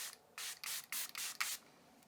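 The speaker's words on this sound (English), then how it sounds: "So let's go ahead and spritz." Makeup setting spray spritzes from a pump mister onto a face, six quick close bursts in a row, each a soft hiss, with no talking.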